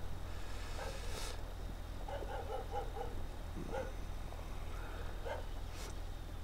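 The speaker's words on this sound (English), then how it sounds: "this dog is just going to keep fucking barking, isn't it?" In a farming video game, a dog gives scattered, faint barks and yips in short groups, heard over a steady low engine drone.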